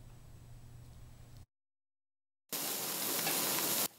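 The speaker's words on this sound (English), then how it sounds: "Egg is ladled onto fresh oysters sizzling on the griddle." Loud, steady sizzling of fresh oysters and egg frying on a hot griddle, cutting in abruptly after a brief moment of silence and holding strong.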